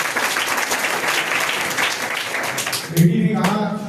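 Applause from a school audience at a science academy event, dense clapping filling the clip before a voice briefly cuts in near the end.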